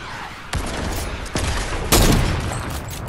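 Three heavy sniper rifle shots in a video game, each a loud booming crack followed by a rumbling tail, spaced about half a second to a second apart with no speech over them.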